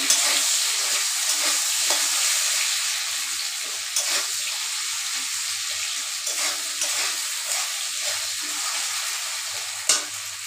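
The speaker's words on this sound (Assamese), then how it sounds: "অকণমান নিমখ আৰু হালধি দি কেনে ধুনীয়াকৈ ফ্ৰাই কৰি ল'ম" Potatoes fry in hot oil with salt and turmeric for a prawn, potato, eggplant and pumpkin curry, giving a steady close sizzle broken by a few sharp scraping clicks of a spatula, with no talking.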